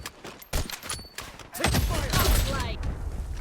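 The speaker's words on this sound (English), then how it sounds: "the player fires a shot as soon as the crosshair is aligned with the target" Gunfire in the shooter game Blood Strike, sniper rifle shots cracking sharply at about half a second and again near one and a half seconds, followed by a dense burst of loud game noise and echoing reports.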